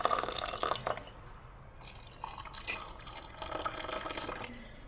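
Water is poured into a pan of milk while making breakfast, a dripping, splashing trickle that runs in bursts across the moment, fairly close and moderately loud, with no talking.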